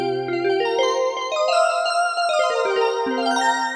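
Bright, chiming 80s-style DX7 synthesizer bell tones play a short descending-then-rising melody, each note ringing clearly with a metallic shimmer.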